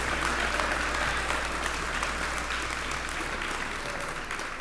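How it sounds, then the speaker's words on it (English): Crowd applause at an outdoor ribbon cutting for the Grant Center in West Savannah, steady dense clapping from many hands, loud and continuous, tapering slightly toward the end. "Y'all give a big round of applause."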